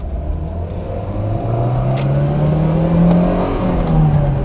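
A Daewoo Espero engine revs up from a standstill, pitch climbing steadily as it accelerates through a gear, loud and close with a brief dip at a shift.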